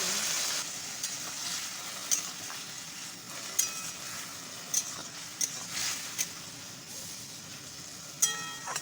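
Curry sizzling and frying in a pan, with water splashed in to loosen it, giving a steady hiss broken by several sharp crackles and bursts throughout, fairly close and moderately loud, with no talking.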